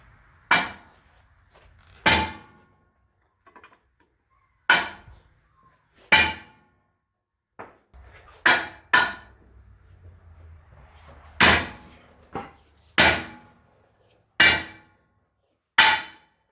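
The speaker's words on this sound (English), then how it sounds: "The manual says to smack right on the axle." A hammer strikes the axle of a John Deere 2440 tractor, with about a dozen sharp metallic clangs at irregular intervals, each loud and close, ringing briefly before quiet gaps.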